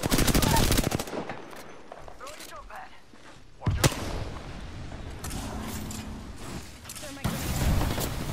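Rapid bursts of gunfire in the video game Apex Legends, loud and dense at the start and again near the end, with scattered shots and game effects in between and some talking mixed in.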